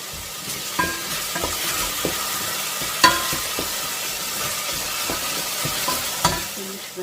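Onions for rice fry in oil, a continuous sizzle broken by repeated scraping and knocking of a stirring utensil against the pan, with a few sharper clanks.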